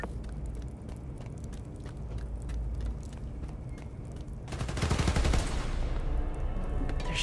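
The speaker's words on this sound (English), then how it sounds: "Shooting transformers?" Rapid gunfire in Spider-Man: Miles Morales shooting at power-station transformers, sustained crackling bursts that grow denser and louder toward the end, with no talking.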